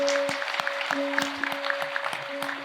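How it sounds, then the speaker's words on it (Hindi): Audience members at a Vihangam Yoga Sansthan anniversary gathering clap for one another in an irregular rhythm of sharp claps, while a steady electronic tone hums beneath them. "सभी एक दूसरे के उत्साहवर्धन में तालियों की गड़गड़ाहट करें"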